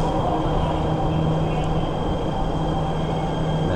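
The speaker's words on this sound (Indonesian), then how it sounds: "Nah ini MRT udah datang teman-teman ya." A Jakarta MRT train pulls into an underground station with a loud, steady rumble and whir that fills the platform.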